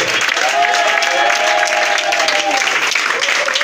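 A church congregation claps and cheers in praise of the Lord. The loud, dense applause is mixed with voices calling out, and it continues unbroken throughout.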